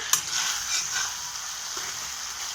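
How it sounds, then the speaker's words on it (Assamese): Lai greens and chicken frying in a pan, a steady close sizzle with soft scraping stirring and a sharp clink near the start. "আৰু এইটো এনেকৈ অলপ ভাজি ল'ম"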